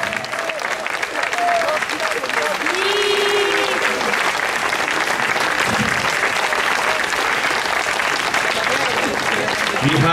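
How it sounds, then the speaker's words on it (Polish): Loud, sustained applause from a concert audience at an outdoor St. Dominic's Fair, steady dense clapping filling the whole stretch, with a few faint voices and a brief whistle-like tone early on. "Gorące brawa dla Ojca!"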